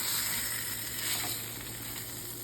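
Pomfret (halwa) fish shallow-frying Konkani style in a hot pan, a steady close sizzle with crackling oil that holds on alone throughout.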